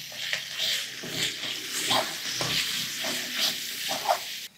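Onion, garlic and ginger paste with red chili and turmeric powders frying in oil for a broiler chicken curry, a continuous close sizzle broken by repeated spoon scrapes and stirring knocks, no talking.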